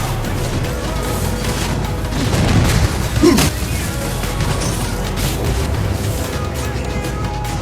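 A turret being destroyed in Mobile Legends, a heavy booming crash that swells briefly near the middle over busy game sounds and background music.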